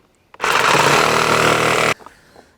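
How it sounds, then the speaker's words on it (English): A power saw cuts a notch into lumber for a raised garden bed, starting abruptly with a loud, steady whine for about a second and a half, then stopping sharply, followed by faint handling clatter. "I can get my saw blade in there and then cut across that way"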